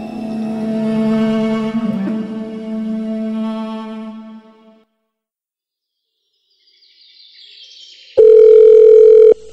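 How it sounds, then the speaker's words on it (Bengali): Telephone in a Bengali Byomkesh Bakshi detective audio drama, heard as a loud steady electronic ring tone bursting in near the end after a rising chime and quiet pause, following sustained melodic background music. "আজ সকালে একটা ফোন এলো।"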